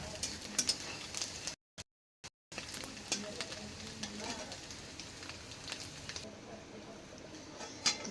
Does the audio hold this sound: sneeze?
no